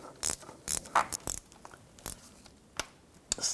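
Ratchet wrench tightening a bolt during a water pump replacement on a 2010-2014 Volkswagen GTI: short bursts of sharp metallic clicking, close and fairly loud, coming in irregular spurts with quiet pauses between.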